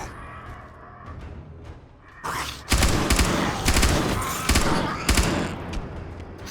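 Short bursts of automatic gunfire from a weapon in the modded zombie survival game 7 Days to Die, loud, close, dense clusters of rapid shots after a quiet lead-in.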